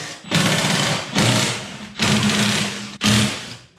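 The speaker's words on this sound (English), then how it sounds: "What I'm gonna do now is open up the gearbox using a 10mm socket." A power tool with a 10mm socket runs in four separate buzzing bursts, each about a second long and loud and close, while bolts come off a snowblower gearbox.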